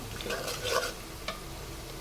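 Onion fries in a pan for a chicken dish, a quiet sizzle broken by a few scraping stirs, faint and close.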